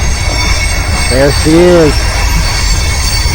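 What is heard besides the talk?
passing train, wheels squealing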